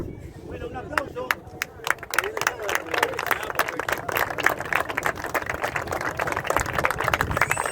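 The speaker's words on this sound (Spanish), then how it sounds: "Bueno, un aplauso." Crowd at an outdoor bonfire gathering in Villa 7 de Marzo breaks into sustained clapping and applause, a dense stream of claps continuing throughout with voices mixed in.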